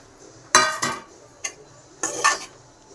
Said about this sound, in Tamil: இனி சூடான சாதத்தை போட்டு கிளறிக்கலாம்.